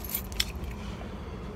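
A bunch of keys jangles close by, a few bright metallic shakes and clinks early on with a sharper clink in the middle, then fading into quiet background hum.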